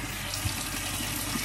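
Tap water pours steadily into and over an insulated water bottle at a sink, a continuous close splashing rush with no pauses.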